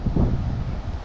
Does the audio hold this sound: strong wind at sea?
yes